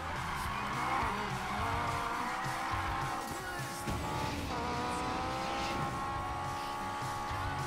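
Car drifting in Need for Speed Payback, with continuous loud tire squeal over a droning, revving engine that rises and shifts pitch as the car slides, no voices.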